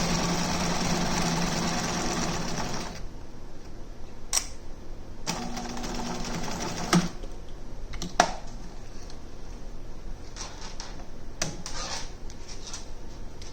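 Sewing machine stitching a fabric face mask, short forward and back-stitch bursts of motor whir separated by pauses and small clicks, close and moderately loud.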